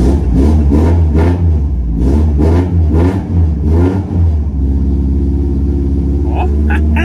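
A Volkswagen Passat engine running steadily close by, stalling unless revved, with repeated surges of revving in the first half before settling into a rough, loud idle.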